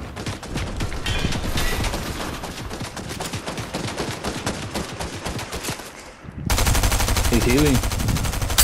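Rapid, sustained gunfire in a Fortnite match, loud and close, with a brief drop before another burst of heavier shooting, and a voice speaking briefly.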